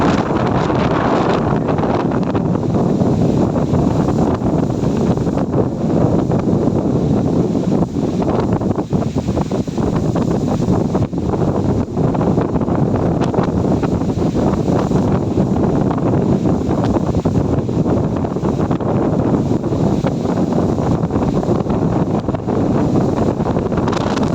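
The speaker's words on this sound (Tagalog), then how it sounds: "Napakasarap ng hangin." Strong wind buffets continuously high above the Abuan River, loud and roaring with steady gusts and no voices.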